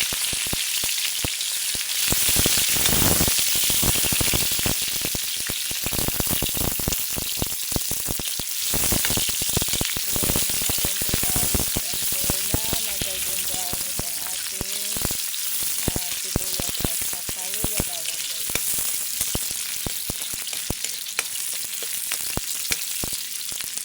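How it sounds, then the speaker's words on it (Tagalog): Onion, ginger and garlic hit hot oil for a chicken curry, setting off a loud, crackling sizzle that pops and spits continuously, with occasional stirring scrapes and no voices. "At dahil mainit na ang ating oil guys, ilalagay ko na tong sabay tong onion and then yung luya at saka bawang."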